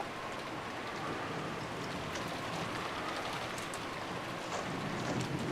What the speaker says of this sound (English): Following Jessica, we ran through the rain-soaked rose garden